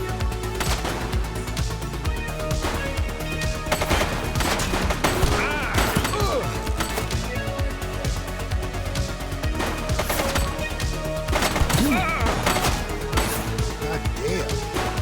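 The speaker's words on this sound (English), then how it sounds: "She's shooting!" Bursts of rapid gunfire fill a police shootout in the video game The Precinct, loud and continuous with overlapping shots and crashes, while voices talk over the action.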